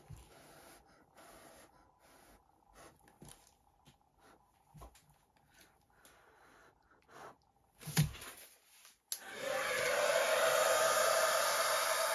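A steady, loud whoosh of a hair dryer switches on near the end, blowing continuously over an acrylic paint pour after several seconds of quieter handling noises and a sharp breath.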